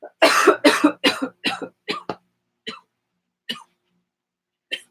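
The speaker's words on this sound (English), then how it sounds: "No wonder I was clearing my throat." A person coughs and clears their throat in a burst of harsh bursts, then a few sparser, quieter hacks trail off; no talking.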